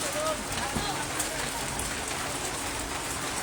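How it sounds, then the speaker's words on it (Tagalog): Rain falling steadily on surfaces during street flooding on Araneta Avenue, a constant close hiss with scattered drops, and a faint voice briefly underneath. "Umuulan kasi."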